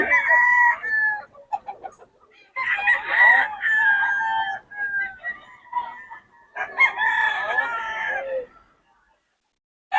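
Roosters crow loudly in drawn-out calls, with chickens clucking between them and a brief quiet stretch near the end.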